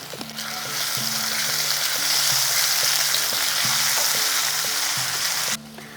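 Ginger-garlic paste sizzles and fries steadily in a hot pan as a base for a rohu fish curry, a loud continuous crackle with occasional stirring scrapes, fading at the end.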